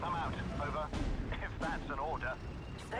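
Bombs exploding on a Normandy battlefield in the Steel Division: Normandy 44 war game, several booming blasts in quick succession under continuous speech.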